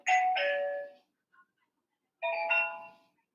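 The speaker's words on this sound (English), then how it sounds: "I have like two doorbells" Doorbell chimes twice, each a two-tone ding-dong, loud and close, with a short gap and near silence between the rings.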